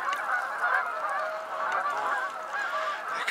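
A flock of Canada geese honks continuously, many overlapping calls forming a dense, steady clamor nearby.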